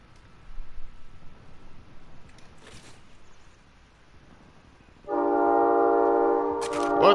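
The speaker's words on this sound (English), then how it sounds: "What the hell is that train?" A train rumbles in a video game, then a loud sustained horn blast comes in partway through and holds steady to the end, over faint background noise.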